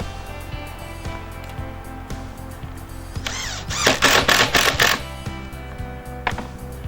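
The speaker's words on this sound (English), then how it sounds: "I'm going to put the screw back in the same hole it was just in." A screw driven into crown moulding at an outside corner: a short, loud whirring burst of a power driver in the middle, set against a steady low hum with light ticking handling noises before and after.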